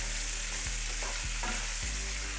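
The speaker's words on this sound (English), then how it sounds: "As you can see, it's already frying, and that's where we want it at." Pork ribs fry with garlic cloves, poblano chile and onion in a hot pan, making a loud, steady sizzle close up, broken by a few soft knocks of stirring.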